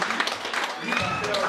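An audience at a May Day workers' celebration applauds in a dense, steady patter of clapping, moderately loud and continuous, with voices mixed in underneath.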